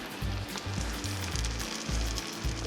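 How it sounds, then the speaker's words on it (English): A turkey and cheese quesadilla sizzles and crackles steadily in a hot pan, a dense frying hiss running without pause, close and moderately loud. "Listen to this sizzle."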